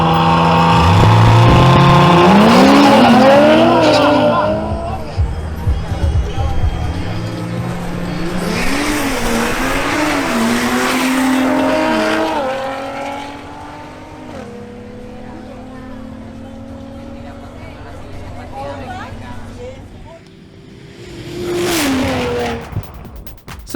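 An Audi RS5 and a BMW M240i xDrive launch in a drag race, engines revving hard through rising gear shifts, loud and close at first, then receding, with a second surge of engine noise near the end.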